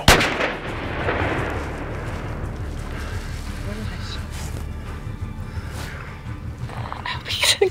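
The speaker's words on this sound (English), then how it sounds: "Wait till you got a clear shot." A single loud rifle shot goes off at the start during a hunt outdoors, followed by a long rolling rumble and low background noise.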